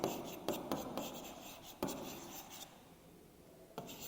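Pen or pencil writing by hand on paper during a math lesson, a faint scratchy rubbing in short strokes with brief pauses, close and quiet, no voices.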